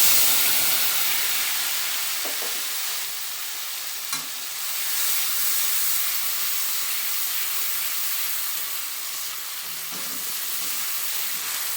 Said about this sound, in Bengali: এই পেস্টটা আমি এবার এতে কড়াতে দিয়ে দেবো